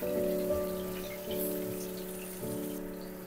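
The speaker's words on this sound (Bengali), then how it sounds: "আমি এখানে দুটো করে মাছ দুবার ধরে ভেজে নেব, তাতে একটা মাছ একটা গায়ে লেগে যাবে না।" Fish pieces of katla frying in hot oil in a pan, giving a steady, dense sizzle and crackle close up, with a constant hum running underneath.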